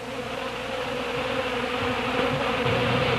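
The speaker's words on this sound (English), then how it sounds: "the bee takes right off right away for another load" A honey bee takes off and flies, giving a steady, close droning buzz that holds throughout, with no voices.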